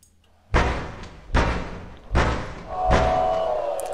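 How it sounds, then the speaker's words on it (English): Four heavy, evenly spaced knocks thud on a front door in a video game, each a loud booming hit, followed by a faint lingering tone. "The knocking continues persistently"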